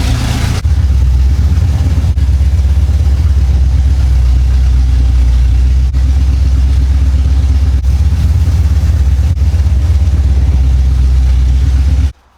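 A 1975 Chevy Monza, sitting for 20 years, runs while being put through its gears, giving a loud, steady low engine drone, close up, that cuts off abruptly at the end.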